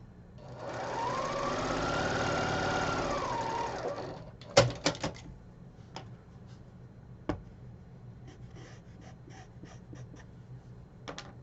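A sewing machine chain pieces a quilt block in one steady whirring run of about four seconds, then stops, followed by sharp clicks and taps of handling in a quiet room.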